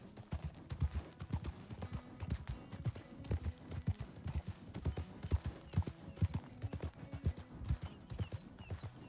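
Horse hooves clip-clop in a steady, even rhythm in the Wild RP video game, a continuous close walking gait with faint ambient background and no talking.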